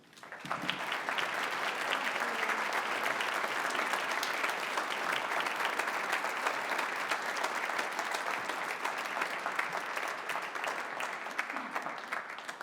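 An audience at a veterans concert by a concert band bursts into sustained applause, a dense, even clapping that swells quickly and holds steady for over ten seconds before tapering slightly.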